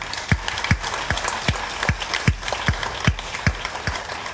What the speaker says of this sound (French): je vous félicite et je vous applaudis